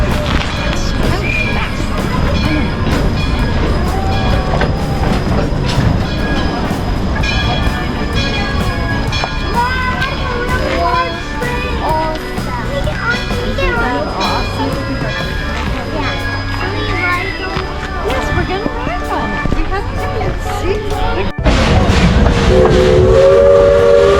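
The Roaring Camp steam train at Santa Cruz, California, sounds loud and near with a sustained whistle and a steady rumble, under a dense mix of crowd noise and chatter.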